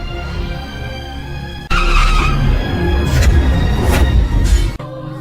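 A car skids loudly in a dramatic Indonesian TV scene, a sudden harsh tire-screech burst cutting in over a steady background and sustaining for about three seconds before stopping abruptly.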